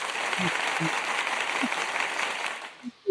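Light, polite golf-clap applause from a small group, a soft continuous patter of hands that fades out near the end, with a few low thumps and a brief voice sound at the close.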